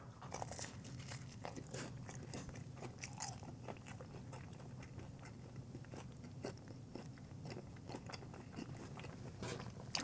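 Papa John's New York style pizza being bitten and chewed up close, a steady run of crunchy bites and wet mastication sounds repeating throughout with no talking.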